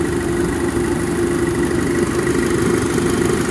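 An Audi Mk2 TT car with a swapped-in 2.0 TFSI engine idles steadily and loudly nearby, a constant low rumble with a mechanical hum, no voices.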